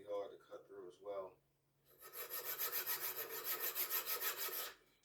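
Stainless steel stock for sway bar links being cut by hand, a steady back-and-forth rasp of about a dozen even strokes, close and fairly loud, after a few brief quieter scrapes at the start.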